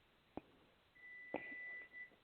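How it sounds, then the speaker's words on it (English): Kitchen stove beeping faintly in the background, a single sustained electronic tone about a second long followed by a shorter repeat, with soft clicks nearby. "I got my stove beeping at the moment."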